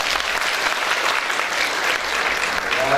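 An audience at a university meeting in Baku applauds steadily, a dense, even burst of clapping from many hands that stays loud and sustained throughout without a break.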